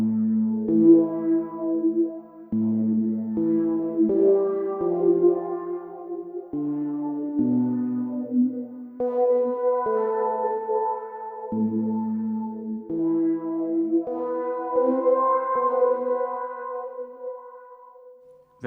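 A synthesizer through a Mooer Ocean Machine reverb mode plays a sequence of sustained chords and notes that shift every second or two, each blooming into a smeared, washy tail, steady and moderately loud with no voices.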